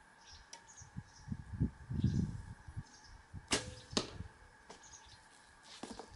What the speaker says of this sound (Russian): Это были пристрелочные выстрелы